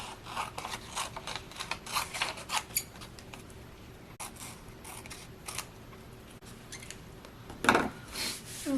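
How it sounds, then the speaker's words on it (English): Scissors trimming an altered index card for a junk journal, a series of soft crisp snips and paper rubbing clustered in the first few seconds, then quieter handling and a louder snip near the end. "then we'll just take a pair of scissors and trim this up."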